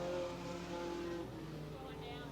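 Late model race cars lap a speedway track at Brighton Speedway in 1992, their engines droning steadily at mid distance beneath a race announcer's continuous talk, with a faint rise in pitch toward the end.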